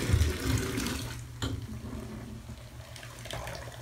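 Steady running water pours from a tap into a filling bathtub with a bath bomb, a soft continuous rush with a faint clunk partway through.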